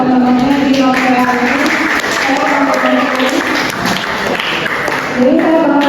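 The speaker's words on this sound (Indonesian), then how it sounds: "patut kita kasih apresiasi tepuk tangan dulu buat teman-temannya di Novel." Audience applauding students at a university community service event, loud clapping mixed with crowd noise and voices talking over it throughout.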